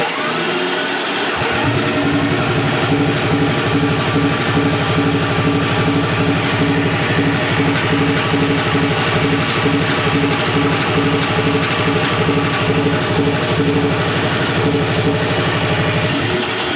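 A 51-year-old Aermacchi motorcycle engine idles steadily in a workshop, a loud, continuous mechanical drone with rapid firing pulses that holds evenly for over fifteen seconds after it catches.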